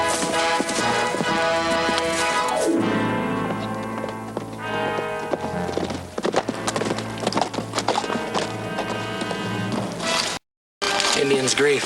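Horses clip-clop in a dramatic western scene, their hoof beats layered under loud orchestral music. A horse neighs at the start.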